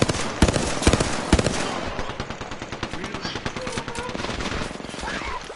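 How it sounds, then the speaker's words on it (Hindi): Rapid gunfire in the shooter game Apex Legends: sharp, close shots and quick bursts crackle unevenly throughout, loudest early, with faint voices underneath. "पीछे से गोलियां आ रही हैं, रुक जाओ आगे मत जाओ।"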